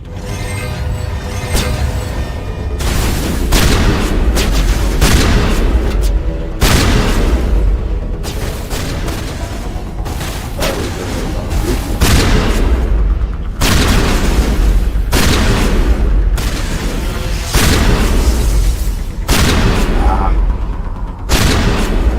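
Shotgun fire in Mass Effect 1 against zombie-like enemies, heavy booming blasts repeating every second or two, loud and close, with someone talking over parts of the gunfire.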